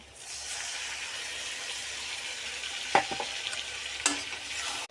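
Meat tipped into hot oil with fried onions, whole cumin and bay leaf, left from frying potatoes, gives a steady close sizzle, with a few sharp stirring scrapes and knocks toward the end.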